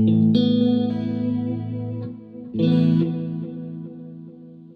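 A few guitar chords through a tape echo delay pedal with reverb off, ringing out with repeating echoes trailing after each, two main strums that sustain and slowly decay.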